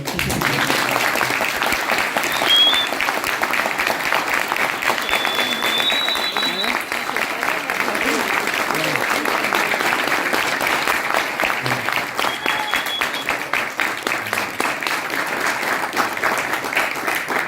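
A sustained round of audience applause following a final electromechanical project presentation, dense and even for the whole stretch, with a few voices and whistles faintly mixed in.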